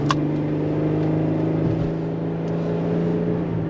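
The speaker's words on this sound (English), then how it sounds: "See if we can hear the engine." A car engine hums steadily from inside the vehicle, its tone holding firm as it pulls along, with no talking.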